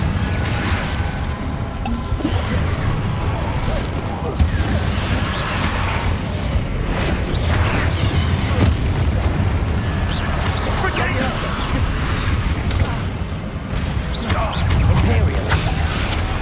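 Confringo fire spell blasts in the Hogwarts Legacy game: loud, continuous booming and crashing impacts with whooshes, layered under steady spoken spell names throughout.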